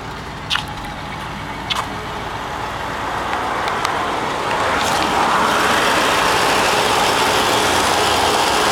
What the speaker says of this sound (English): This motor runs phenomenally well.